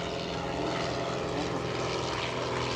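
An X-Cub seaplane flies past during a seaplane parade at an airshow, its propeller engine giving a loud, steady, buzzing drone throughout with no voices.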